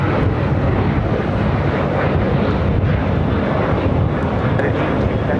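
An airplane takes off from runway 25 right at LAX, a loud, steady broadband roar that holds for several seconds with some wind rumble mixed in.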